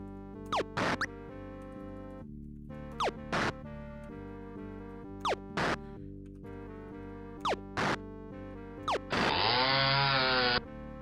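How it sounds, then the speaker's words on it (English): A digitized chainsaw sound effect from the Ultima V: Warriors of Destiny computer game, heard as a series of sharp, buzzing revving bursts in uneven rhythm, ending in a longer, sustained snarl; no talking. "Good timing on the chainsaw sound, just when that guy turned into a pool of blood."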